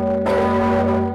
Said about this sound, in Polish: Dzwon Zygmunt.